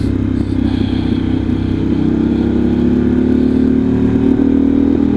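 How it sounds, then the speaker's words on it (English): A motorcycle rides through the dark in sport mode, slowing on engine braking rather than the brakes, its loud, steady close-up engine drone holding a low hum with light mechanical clatter and no talking. "I'm just letting the engine do the job"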